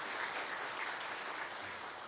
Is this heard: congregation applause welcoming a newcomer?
yes